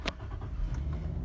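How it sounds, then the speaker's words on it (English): A 2008 Nissan Skyline engine cranks and catches, settling into a steady idle with a low, continuous rumble close by, after a brief sharp click at the start. "start the engine"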